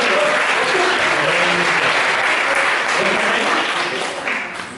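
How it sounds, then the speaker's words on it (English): A live audience claps loudly and steadily for several seconds, a dense wash of hands that fades slightly at the end. "Let's have a round of applause for the dream of"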